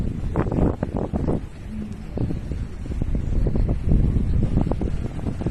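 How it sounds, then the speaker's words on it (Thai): A sea breeze blows across the microphone outdoors on a mild, overcast day in France, a steady gusty rush with rustling and buffeting throughout. "ลมวอยๆลมทะเลพัดมา"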